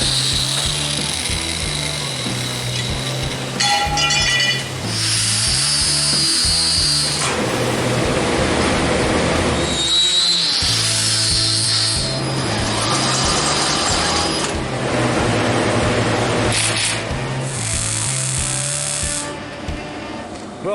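An old power steering bracket, reused for a twin Eaton M-90 belt-driven supercharger build, is cut with a loud whining power tool in long steady passes broken by brief pauses and pitch shifts.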